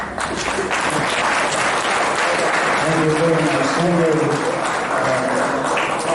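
Sustained audience applause fills a hall at a boxing hall of fame induction ceremony, loud and dense throughout, with a voice speaking briefly over the clapping.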